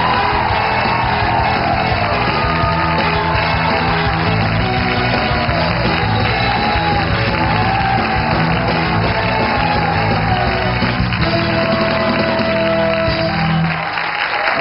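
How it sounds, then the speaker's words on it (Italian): A studio audience on an Italian television show gives a long, loud, steady burst of applause mixed with cheering and whoops. "Accogliamola con un grandissimo applauso."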